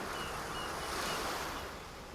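Ocean surf washing steadily at the surface, a continuous broad roar of breaking waves with some wind, swelling slightly in the middle and easing toward the end, with no voices.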